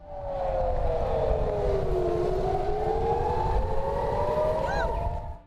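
An Israeli civil defense air raid siren wails in a long, sustained tone that dips and rises again, heard from a distance over low background rumble.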